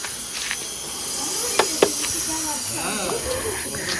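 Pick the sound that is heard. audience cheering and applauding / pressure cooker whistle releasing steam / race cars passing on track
pressure cooker whistle releasing steam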